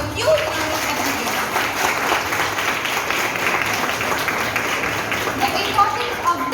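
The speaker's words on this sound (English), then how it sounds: "Please, can I have a huge round of applause?" An audience at a school farewell function for a 12th standard class breaks into steady applause, a sustained wash of clapping in a hall.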